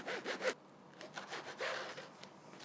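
A knife saws through a baguette in a kitchen, several short scratchy rasping strokes, close and fairly quiet, with brief pauses between cuts.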